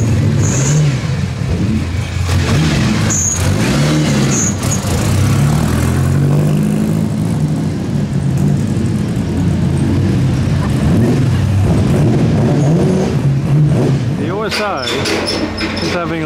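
Four-cylinder car engine at a Monterey car auction revving and pulling away, a medium-pitched engine note rising and falling in bursts over crowd noise and talk, with a sharper whine near the end.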